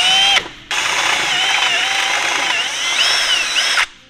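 A power drill bores holes through the bare metal chassis of a 13B-engined FC RX7, whining loudly in two bursts: a short first run, a brief pause, then a long continuous drilling with shifting pitch before stopping.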